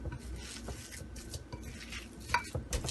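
Chicken shami kabab mixture of minced chicken and green chillies being mixed in a bowl, a quiet, steady squelching and scraping with faint clinks of a utensil, close and without talk.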